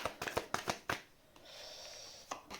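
Tarot cards being shuffled by hand, a rapid run of close riffling flicks followed by a softer sliding hiss of the deck and a couple of final taps, with no speech.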